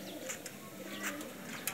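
Soft cooing from a red-pearl-eyed Sialkoti breeder pigeon close by, a few brief low coos amid light background chatter and rustling.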